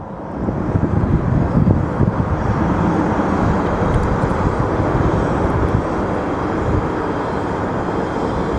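Airplanes taxiing at Phoenix Sky Harbor airport, a steady broad roar of jet engines rumbling continuously in the distance, with some wind noise over the microphone.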